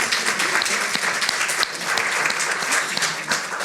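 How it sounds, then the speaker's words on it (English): Audience applause at a literary talk with novelists Elif Shafak and Tahmima Anam, steady dense clapping from a large crowd throughout, loud and sustained with no voices over it. "I think that deserves some applause"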